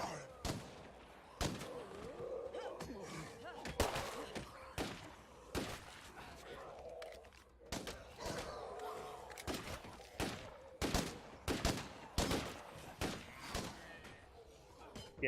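Repeated gunfire aimed at a feral zombie in State of Decay 2, sharp shots scattered irregularly across the stretch with some grouped in quick bursts, loud and close over background game noise and speech.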